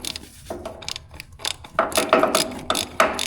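A socket ratchet clicks in quick bursts while brake seal parts are fastened on a U302 tractor, loud and close with a few pauses between strokes.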